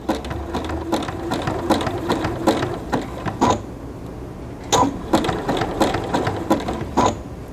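A sewing machine zigzag-stitches cotton piping cord into a coaster, running in short slow bursts of rapid mechanical clatter with brief pauses between, close and without talk.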